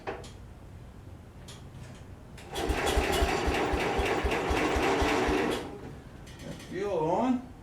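Engine of a 1966 Wheel Horse tractor being cranked to start, a close three-second run of rhythmic chugging turning over before stopping, followed by a short whirring rise.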